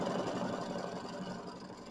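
A sewing machine tacking down fabric for a Kimberbell mini quilt, a rapid, steady mechanical hum with fine needle rattle, close and continuous with no talk.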